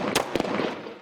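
A pump-action shotgun fired at a wedding party, heard as a couple of sharp, close blasts followed by a rough, noisy decay, loud and with no talking over it.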